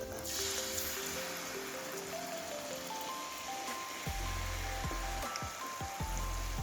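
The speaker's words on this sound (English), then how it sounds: "So now I'm going to add my coconut milk." Coconut milk pours into a pan of Jamaican curry shrimp with potatoes after the curry has been burned, giving a steady sizzle and liquid trickle with a low bubbling that grows in the second half, close and fairly quiet, with no talking.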